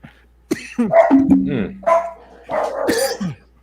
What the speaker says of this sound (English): Your dogs just wanted to get a take.